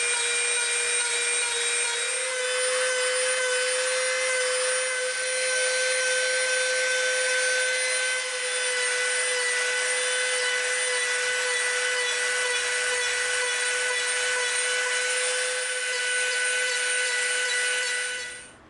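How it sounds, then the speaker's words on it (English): A bandsaw trims a wooden part for a prop pistol replica, with a loud, steady high-pitched whine from the running blade that holds constant for the whole cut before stopping abruptly. "we're going to go to the bandsaw, and we're going to trim out right in here just to make sure it's perfectly square"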